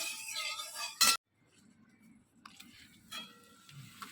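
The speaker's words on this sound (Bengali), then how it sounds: "ওই জন্য একটু পাঁপড় ভেজে নিই" Two papads frying in hot oil give a faint, soft sizzle, broken near the start by a sharp clink of a utensil against the pan.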